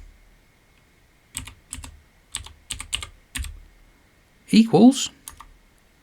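Several short bursts of computer keyboard typing, each a quick cluster of clicks, separated by brief pauses, fairly close and clear, followed by a short spoken word near the end.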